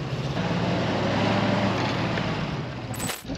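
A DT-75 crawler tractor engine labors steadily as the machine climbs a hill, a loud continuous low drone holding throughout with a brief drop near the end.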